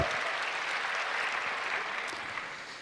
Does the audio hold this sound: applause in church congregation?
yes